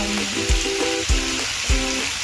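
Chicken pieces frying in a pan with salt, chili powder, turmeric, ginger-garlic and garam masala, giving a steady close sizzle broken by a few soft stirring knocks.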